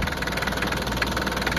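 A tractor engine idles close by with a steady, rough knocking throb, continuous and loud with no voices over it.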